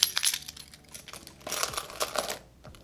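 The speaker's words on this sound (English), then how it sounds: "So I'll just slide my keys in here." Keys slide and clink into a small Gucci Marmont mini bag: a cluster of bright metallic jingles and rustles, close and fairly quiet, with a second burst of clinking midway.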